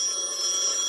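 A telephone rings with a brief, bright electronic trill, close and clear, with no other sound around it.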